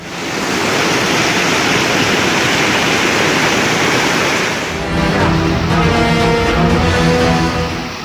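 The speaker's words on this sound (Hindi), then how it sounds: "सड़क पर आया सैलाब," Floodwater surging through city streets, a loud continuous roar of rushing water that carries on unbroken, with a slight change in texture partway through.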